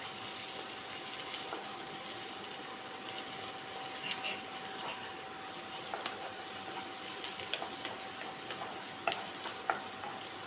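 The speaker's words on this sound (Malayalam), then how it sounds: "ഇത് നന്നായി ഇളക്കി പതിയെ വേകണം." Finely chopped round slices of beans and vegetables fry in a pan, giving a steady soft sizzle with occasional faint scrapes and taps from stirring.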